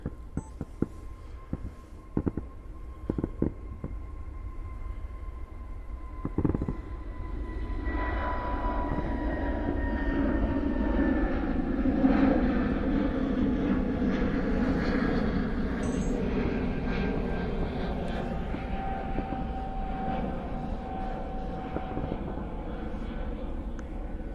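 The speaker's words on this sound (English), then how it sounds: "we got SAS on the takeoff roll, flying back home to Copenhagen" An SAS airliner on its takeoff roll at Manchester Airport, a broad engine roar that swells from a distance, holds steady and loud for a long stretch, then eases slightly, with a whining tonal hum over it.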